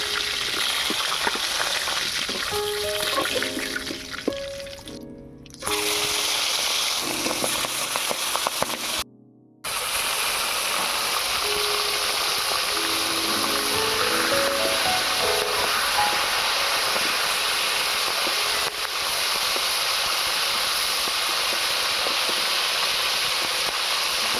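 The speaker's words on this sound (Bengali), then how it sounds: "আবারও বাকি চিকেনগুলো ভেজে নেব।" Chicken pieces fry in hot oil, a loud, dense, continuous sizzle and hiss that runs steadily with two brief dropouts, no talking.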